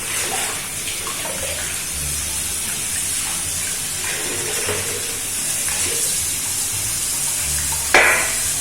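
Steady rushing water pours from a hotel tap, a continuous hiss with faint clinks and a brief sharper splash near the end.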